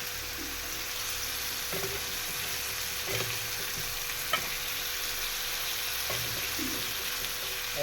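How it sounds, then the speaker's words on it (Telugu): Jackfruit seeds fry with masala in a pan over low flame, with a steady close sizzle and occasional scraping stirs and clinks. "పనసపిక్కలను కూడా యాడ్ చేసుకుందామండి."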